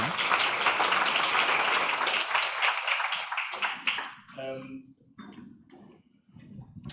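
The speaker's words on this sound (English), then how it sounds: "A round of applause, please, for my panel." An academic conference audience applauds a plenary panel: a full, steady round of clapping from a crowd that dies away after a few seconds into quieter room sound with faint voices.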